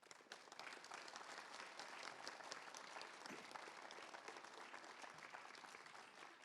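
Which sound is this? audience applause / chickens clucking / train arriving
audience applause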